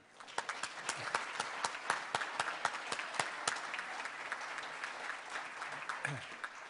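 An audience gives steady, sustained applause for a new member being welcomed at a club meeting, dense clapping throughout with a few louder individual claps standing out.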